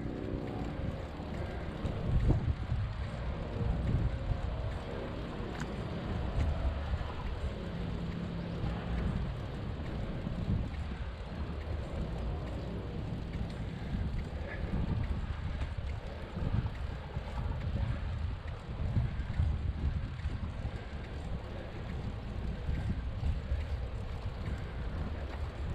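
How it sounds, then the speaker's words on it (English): High storm winds buffet a rider crossing a tall viaduct bridge, a loud continuous roar of wind rumbling against the microphone for the whole stretch, with no speech. "So we're in high winds, storm right behind us."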